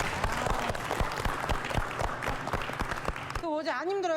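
A short burst of audience clapping at an art show event in Korea, rhythmic claps mixed with talk, ending abruptly as a voice continues alone.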